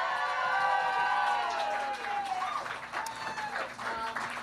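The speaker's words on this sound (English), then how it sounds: "So can we get a round of applause for the show so far?" Audience applause at a burlesque show at DNA Lounge, a dense burst of clapping and cheering from the crowd that swells early and then tapers while continuing throughout.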